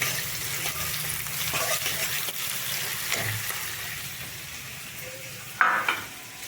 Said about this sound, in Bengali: এর মধ্যে রসুন আর পেঁয়াজটা পুরোটাই দিয়ে দিলাম এর মধ্যে, ভাজাটা ভালো করে হোক।